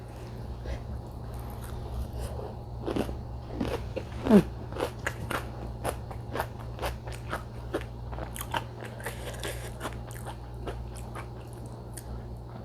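Crunchy krupuk crackers being bitten and chewed alongside spicy stir-fried water spinach, with repeated close, crisp crunches and crackles over a steady low background hum.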